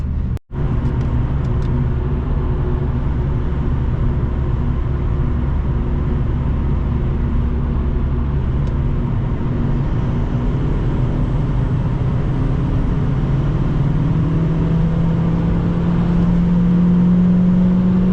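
A turbocharged 8th-gen Honda Civic with an R18 engine running 3 psi of boost on a night drive, giving a steady loud drone of engine and road noise from inside the cabin that rises gradually in pitch as it accelerates.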